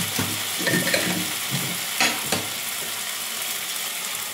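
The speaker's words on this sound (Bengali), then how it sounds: "সিদ্ধ ডালটা দিয়ে দেবো" Pressure-cooked boiled lentils go into a pan of frying spices, and the pan sizzles close by. Several soft thuds and scrapes of stirring sound over the steady frying.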